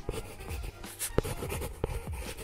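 A pen writes on a paper contract form in an office, giving a close, soft run of scratching strokes with small taps that start and stop across the moment, with no voices present.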